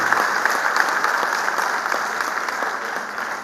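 Audience at a political speech on the Emergency-era dark days claps loudly in a steady, dense burst of applause that fills the whole stretch without pause.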